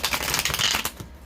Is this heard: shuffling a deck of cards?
yes